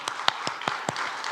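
Faint, sparse clapping at a church revival meeting, a handful of distinct claps spaced evenly in a short rhythmic run.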